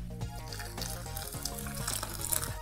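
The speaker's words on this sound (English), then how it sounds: "I'm going to add water and let it boil for a while." Water poured into a pot of apples for apple butter, a steady splashing, running stream heard close and fairly quiet against a kitchen background.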